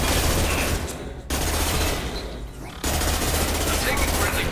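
Friendly gunfire in the video game Mass Effect 2: dense, continuous rapid-fire shooting that fills the scene loudly, broken by two brief drops in intensity, with voices in the game mix.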